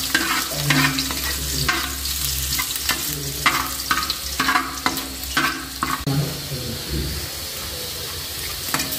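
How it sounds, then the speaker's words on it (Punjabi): Finely chopped garlic and ginger frying in hot oil in a pan, a steady sizzle broken by repeated scraping stirs, close and fairly loud, with no voices. "ਇਹਦੇ ਵਿੱਚ ਪਾ ਲਾਂਗੇ ਆਪਾਂ ਲਸਣ ਔਰ ਆਦਾ ਬਰੀਕ ਕੱਟਿਆ ਹੋਇਆ ਇਹਦਾ ਇਹ ਥੋੜਾ ਭੁੰਨ ਲੈਂਦੇ ਆ"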